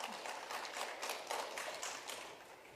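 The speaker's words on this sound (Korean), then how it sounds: "박수로 환영해 주십시오" Faint applause from a seated audience welcoming panelists onto the stage at a Korean literature academic conference, a steady soft patter of clapping heard from a distance.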